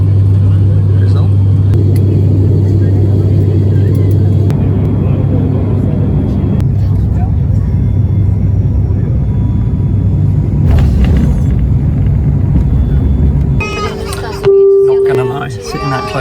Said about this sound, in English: Sitting that close to the propellers all flight did freak me out a little bit, but we landed fine